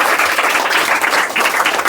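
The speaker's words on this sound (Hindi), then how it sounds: "इस बात के लिए जोरदार ताली भैया।" A room of children at a live podcast breaks into dense, loud clapping that holds steady for a couple of seconds.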